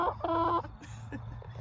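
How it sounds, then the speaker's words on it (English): Domestic chickens clucking in a backyard coop, a few short close calls at the start followed by softer fowl murmuring over low background noise. "They could have hurt my chickens, but they seem to be okay."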